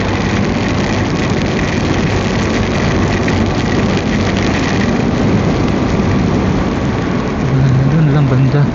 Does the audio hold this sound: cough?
no